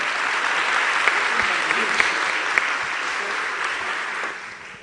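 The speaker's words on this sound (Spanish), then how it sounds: "les pido el favor un aplauso para el panel número 5" A seated audience at a library colloquium applauds a discussion panel, steady dense clapping that holds evenly and then tapers slightly at the end.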